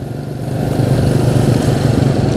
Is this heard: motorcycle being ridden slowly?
yes